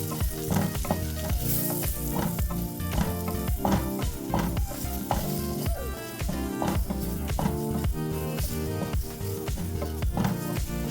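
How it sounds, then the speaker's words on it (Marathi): Maida flour fries in oil in a pan for a sauce, with mushrooms also in it. A loud, continuous sizzle is broken by repeated sharp scraping clicks from stirring, close and steady throughout. "हा मैदा मी देखील ह्या तेलामध्ये चांगला आता तळून घेत आहे"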